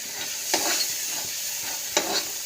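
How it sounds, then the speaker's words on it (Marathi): Spices being stir-fried with onion and tomato paste for a ridge gourd curry: a constant soft hiss with two brief scraping stirs of a spoon in the pan, close and alone. "ते मसाले ॲड करूया छान याला परतून घेऊया"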